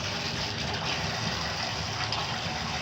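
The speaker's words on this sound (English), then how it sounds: "I'm going to turn the water on." Water from a bath tap runs in a steady, loud, unbroken gush filling the tub, close by with no other sounds.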